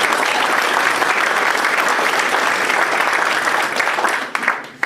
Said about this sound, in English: Yes, that's an applause.